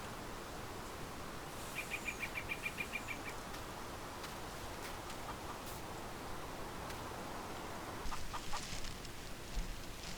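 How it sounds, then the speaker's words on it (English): Chickens in the Farming Simulator 19 video game cluck in short rapid bursts over a constant hiss of background noise, with a second cluster of clucks later on. "check on the chickens"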